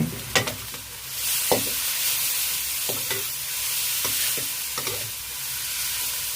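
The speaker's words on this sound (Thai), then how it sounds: "ผักเริ่มสลดก็ใส่เบคอนที่เราทอดไว้ลงไปครับ ตามด้วยพริกชี้ฟ้าแดง" Cabbage stir-fried with fried bacon and red chili in a pan, a loud continuous sizzle broken by sharp scraping strokes of the spatula every second or so, no talking.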